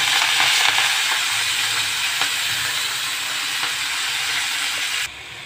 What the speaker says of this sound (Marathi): मेथी, थोडंसं लसण टाकून फ्राय करून घ्यायचं आहे